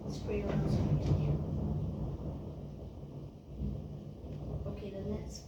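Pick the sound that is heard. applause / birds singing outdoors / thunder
thunder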